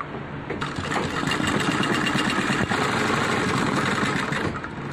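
A sewing machine runs steadily, stitching fabric for a Nehru cap, its motor whirring in a continuous mid-pitched drone with rapid needle rhythm, close and fairly loud, without talk.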